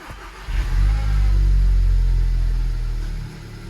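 A VW/Audi car engine, just fitted with an ethanol sensor harness, cranks and catches, then settles into a loud, steady rumbling idle close by before easing off near the end.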